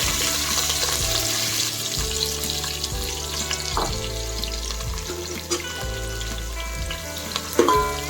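Chopped onions and green chillies frying in hot oil for Andhra-style coconut rice, a loud steady close sizzle running throughout with occasional stirring scrapes and clinks.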